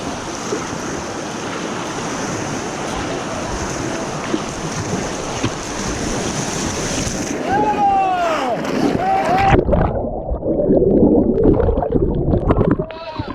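Ocean surf rolls in a steady loud wash with wind while people surf and paddle, and voices talk briefly over it.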